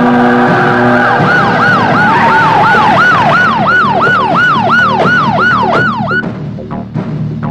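A loud wailing siren in an action movie scene, rising and falling in steady rapid cycles over a rumbling vehicle engine, fading near the end.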